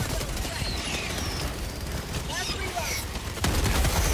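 A sentry turret in Helldivers 2 lets off rapid, repeated gunfire with heavy rumbling blasts, loud and continuous amid battle noise, ending in a louder burst.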